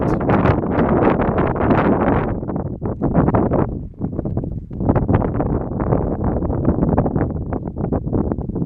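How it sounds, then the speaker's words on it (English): Strong wind roars across a mountain ridge on Mount Pugh in the Cascades, loud gusty buffeting battering the microphone in continuous waves with brief lulls, close and overwhelming. "And the wind!"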